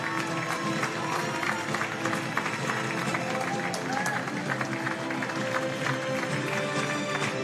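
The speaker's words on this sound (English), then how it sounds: "Walking out to wonderful applause" Crowd applause and cheering at a stadium as the Australia and Japan women's para football teams walk out onto the main pitch, a steady, dense wash of clapping that holds for the whole stretch with no break.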